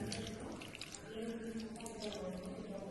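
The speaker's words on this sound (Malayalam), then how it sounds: "ഒരു 4 ലൈമൂൺ വെള്ളം ഒഴിക്കുന്നുണ്ട്" Juice of four limes poured over 1.5 kg of salted seer fish (kingfish) for a biryani gives a steady watery trickle for about three seconds, with a low voice faintly underneath.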